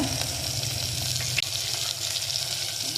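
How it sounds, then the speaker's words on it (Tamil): Garlic, green and dried chillies and curry leaves with onion sautéing in a pan, a soft steady sizzle with a brief clink of a utensil partway through. "நம்ம வெங்காயம் பூண்டெல்லாம் போட்டு வதக்கியிருக்கோங்க"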